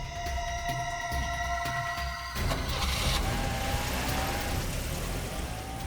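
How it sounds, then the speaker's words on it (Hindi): A car pulls away outside a hotel, its engine audible in a steady rumble that shifts partway through as the vehicle moves off, with a faint high whine over continuous background noise. "गाड़ी तो निकल गई सर"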